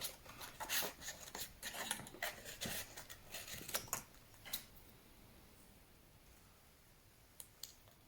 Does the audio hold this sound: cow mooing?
no